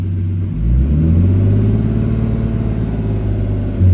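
A turbocharged BMW E30 with an M50 engine making about 500 whp revs hard and close, the engine climbing into a loud sustained drone that holds for several seconds, with no talking.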